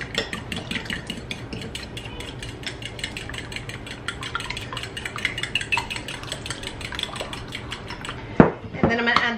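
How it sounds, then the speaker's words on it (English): Batter ingredients mixed in a bowl with a utensil, quick repetitive clinks and scrapes in a steady rhythm, close and fairly quiet, ending with a louder knock. "And then just mix this together really good."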